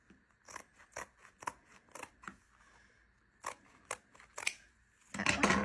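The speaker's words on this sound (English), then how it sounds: "And then I'll cut out a piece of red for our center strip." Scissors cut a strip of red paper with a run of crisp, close snips at an uneven rhythm, followed by a louder rustle of paper at the end.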